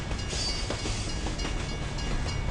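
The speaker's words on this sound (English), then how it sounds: "you're gonna have to watch that train on that last CP" A train rolls past on the final control point in a Team Fortress 2 match, a steady rumbling clatter with faint rhythmic clicks and hiss, continuous and fairly prominent.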